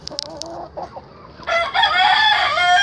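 Roosters at a poultry farm crow nearby, a few clucks first and then one long, loud cock-a-doodle-doo rising over the yard.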